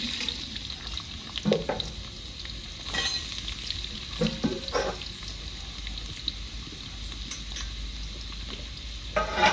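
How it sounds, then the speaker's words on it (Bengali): Carrots sizzling and frying in oil with cinnamon, cardamom and cloves in a rustic home kitchen, a steady hiss broken by occasional stirring scrapes and clinks. "প্রথমে গাজর ভেজে নেবো।"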